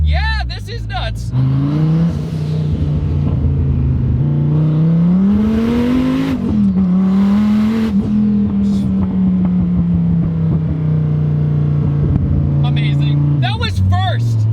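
A 1400 hp twin-turbo Dodge Viper accelerates hard from a first-gear roll, its engine note climbing loud and close with a gear change midway before easing off near the end.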